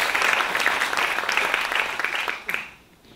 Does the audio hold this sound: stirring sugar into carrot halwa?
no